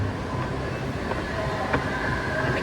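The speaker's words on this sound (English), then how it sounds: "it's the last Green Line train to Greenbelt" A Green Line 7000-series metro train, the last of the night to Greenbelt, rumbles steadily at moderate volume with a faint rail clatter and a few light clicks.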